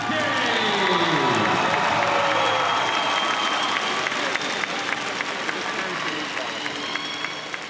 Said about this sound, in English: a big round of applause for the medalists